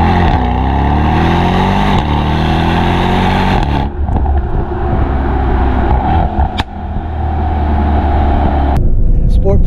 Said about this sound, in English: In Sport Plus, the shifts kick very hard.